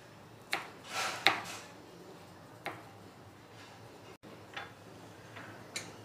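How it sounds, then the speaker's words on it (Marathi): Paneer and coriander get chopped with a knife on a board in a home kitchen, giving a handful of sparse, sharp, quiet taps at irregular intervals. "पनीर आणि कोथिंबीर ही आपण चिरून घेतली"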